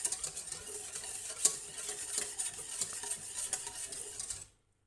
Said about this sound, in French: Je vais prendre le fouet et je vais mélanger continuellement.